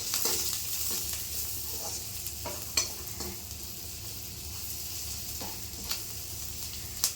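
Onions soften in a pan with salt and turmeric as a spoon stirs them, a quiet steady sizzle marked by occasional scrapes and clicks, heard up close with no speech.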